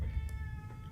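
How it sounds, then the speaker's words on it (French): A cat meows inside a video game, a short, fairly close call over a steady low background hum. "Ah, c'est le chat."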